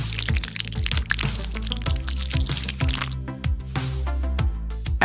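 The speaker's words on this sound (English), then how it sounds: "Oh no, they're all smashed. No problem, just pour in some cream." Cream is poured over smashed Oreo cookies, giving a steady wet pouring and dripping sound with soft squishy pulses, close and continuous for about five seconds under a rhythmic beat of background music.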